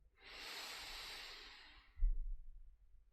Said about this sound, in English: And just to enjoy a nice deep breath in.